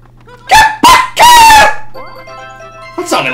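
Squawking, chicken-like clucks from the Super Mario Bros. Wii video game: three loud, close bursts in quick succession, then a fourth near the end, over a low steady background hum.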